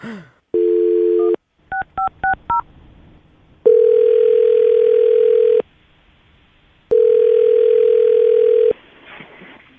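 A dial tone gives way to a quick run of keypad beeps, followed by two long ringing tones on the phone line.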